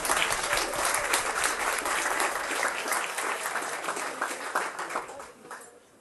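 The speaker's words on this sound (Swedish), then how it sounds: "Kan vi få en applåd för det?" Audience applause at a farewell speech for a Lidingö city school leader, dense and lively clapping that fills the room for several seconds before gradually thinning and fading away.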